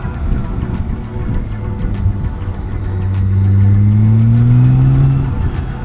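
A 2024 BMW K1600B motorcycle's six-cylinder engine pulls hard in third gear, a loud, steady drone whose pitch climbs smoothly as it accelerates, close up with rushing wind.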